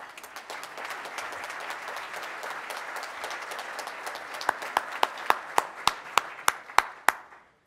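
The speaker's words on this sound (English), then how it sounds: "it would be my pleasure for us to give you a good round of applause" A round of applause for Rotarian hosts and visitors at a Rotary Club of Tulsa meeting: crowd clapping that thins out, leaving a few near, sharp individual claps in a slow steady rhythm at the end.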